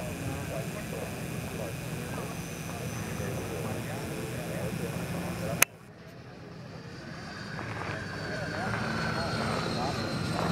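A model Eurofighter jet plane flying, a steady engine whine that cuts off abruptly partway, then returns fainter and rises again as it passes, with voices talking nearby.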